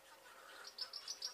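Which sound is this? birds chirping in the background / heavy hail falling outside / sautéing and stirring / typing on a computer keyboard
birds chirping in the background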